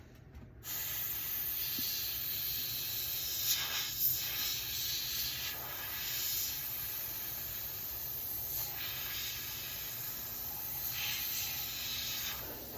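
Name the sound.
airbrush spraying paint on Eduard B-25J model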